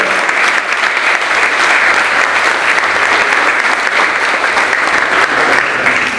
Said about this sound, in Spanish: ¿qué les parece si arrancamos con un fuerte aplauso